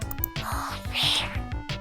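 A Vocaloid synthesized singing voice with breathiness at 100%, heavy and airy, a few short sung notes in a stepped melody, breathy hiss prominent throughout.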